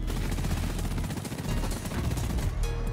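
Sustained rapid minigun fire in the video game Deep Rock Galactic, a loud, dense stream of shots lasting about two and a half seconds before cutting off.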